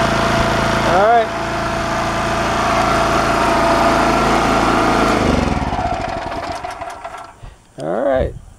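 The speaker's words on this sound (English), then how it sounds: "It is much quieter now with the air filter assembly on it." A Champion generator engine runs with its air filter assembly fitted, giving a steady, fairly subdued mechanical drone that softens and breaks up toward the end, where a voice briefly speaks.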